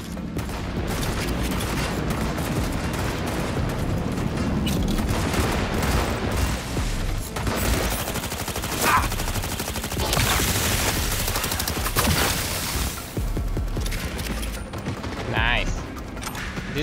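Sustained automatic gunfire in Cyberpunk 2077: Phantom Liberty, a dense loud fusillade of rapid shots mixed with booms and mechanical clanks across the whole stretch, with game voices talking at times.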